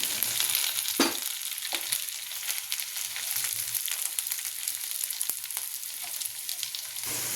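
Potato pieces frying with browned onions in a pan for a prawn curry give a continuous close sizzle, with a few brief stirring knocks. No voices are heard.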